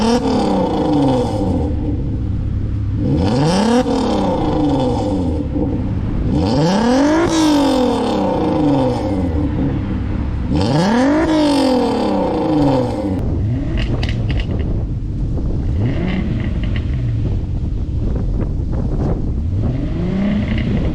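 A Volkswagen Golf R32 MK5 with its VR6 engine revs repeatedly through the exhaust, each blip rising and falling in a loud sweep. Several hard revs come first, then rougher, crackling lower-revving bursts, close and with no talking.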